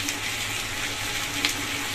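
Potatoes and onions with ginger, cumin and turmeric frying in a pan, giving a steady, soft sizzle with a low crackling hiss throughout and no talk.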